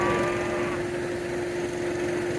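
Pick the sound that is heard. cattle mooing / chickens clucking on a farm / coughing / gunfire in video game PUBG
cattle mooing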